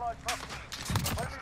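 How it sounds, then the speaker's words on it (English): Gunfire in the video game Modern Warfare, a few sharp broadband shots crackling in a short burst beneath a voice talking over the action. "He's shooting at me"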